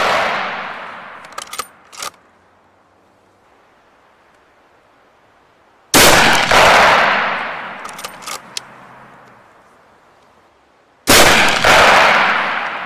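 Three loud, sharp rifle shots ring out about five seconds apart on a Blaser shooting course, each firing at a target 100 metres away and trailing off into a brief echo with faint clicks between.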